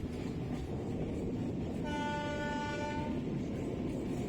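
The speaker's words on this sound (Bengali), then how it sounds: "দেখুন আমার পেছনে ট্রেন পুরো প্ল্যাটফর্ম পাইনি, স্টেশনটা একটু ছোট আছে, তার জন্য 12 কোচের ইউএমইউ লোকাল কিন্তু স্টেশনটা পুরোপুরি ধরে না।" A 12-coach EMU local train at Padmapukur station, a small platform, rumbles steadily throughout while a loud horn blasts in the middle for about a second, clear over the continuous rail noise.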